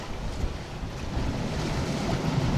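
Stormy Black Sea surf and wind on the Odesa shore, a dense, continuous roar of breaking waves and gusting wind buffeting the microphone, loud and close with no voices.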